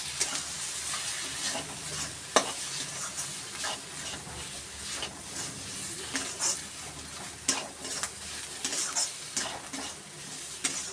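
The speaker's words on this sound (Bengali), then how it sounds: "এগুলো আমি ভালো করে নেড়ে নেবো" Soybean chop filling with sattu and chopped coriander is stirred in a pan, producing a continuous sizzle with frequent scraping spoon strokes and occasional sharp clinks, close up and with no talking.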